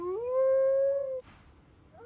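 A dog in Divinity: Original Sin 2 lets out one long, steady, close howl lasting about a second. It cuts off sharply, and another cry begins near the end.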